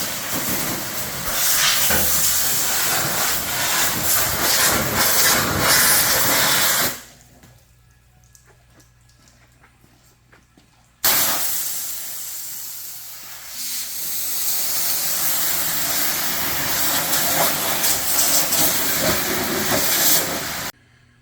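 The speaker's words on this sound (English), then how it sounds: "Dad is just giving a good pressure washing here because he doesn't want to have to work in greasy condition" A pressure washer blasting a greasy floor on a Bombardier job, producing a loud, steady hiss that cuts off for a few seconds and then resumes just as strongly.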